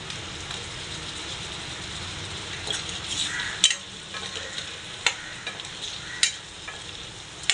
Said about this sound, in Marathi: आता आपण अंडी टाकून घेऊया याच्यामध्ये अंडी व्यवस्थित मसाल्यात परतवायची आपल्याला